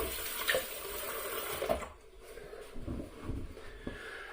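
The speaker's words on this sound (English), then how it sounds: "let's rinse this off" A tap runs water briefly while a razor is rinsed, a close splashing rush for about two seconds that cuts off, followed by faint handling clatter and drips.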